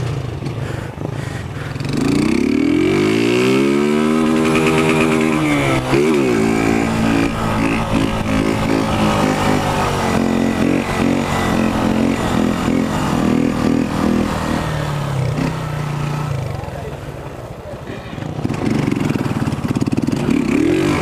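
A white F160 motorcycle engine climbs sharply in a loud rev, holds a high buzzing drone for several seconds, then eases down before rising again near the end, close and with no voices.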